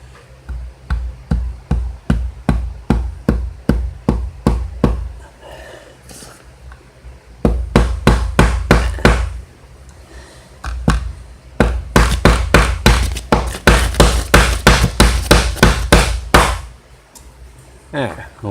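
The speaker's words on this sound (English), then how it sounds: "now let's hammer within 6 inches of your box" Steady, loud hammer blows drive nails near an electrical junction box, each strike sharp and close, coming in quick rhythmic runs of a dozen or so hits separated by short pauses.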